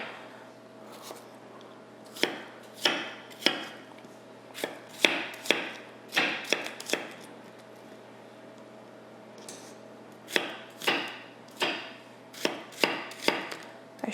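Knife chopping spicy shallots on a cutting board, sharp close taps in irregular bursts, some quick runs of cuts separated by short pauses, over a faint steady background hum.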